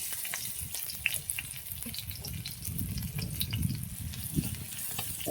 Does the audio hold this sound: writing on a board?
no